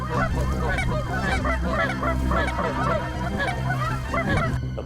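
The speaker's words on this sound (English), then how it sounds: "We've got a group of geese that's working us pretty good." A flock of Canada geese honking close by during a fall hunt in New York, dense overlapping calls rising and falling continuously with no pauses.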